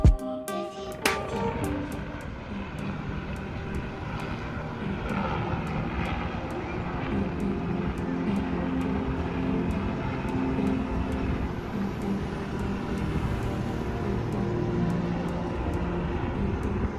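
Steady aircraft engine drone, consistent with a helicopter flying over a fjord, holds at a constant loud level throughout with no talk.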